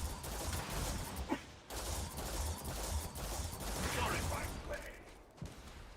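Starfield combat with enemy grenade launchers firing: a dense, continuous barrage of loud blasts and mechanical clatter, with a few sharper hits standing out and a softer tail near the end.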